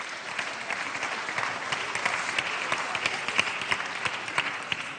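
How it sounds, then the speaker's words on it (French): Sustained audience applause at a national awards ceremony as winners receive a trophy, a dense, steady wash of many hands clapping, fairly even in level throughout with no voices standing out. "On peut bravo. les applaudir."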